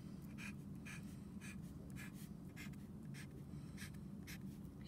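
Pen or pencil strokes on paper while a fraction model is drawn divided into ten parts, a run of short, faint scratching marks in a fairly even rhythm, close up in a quiet room with no talking.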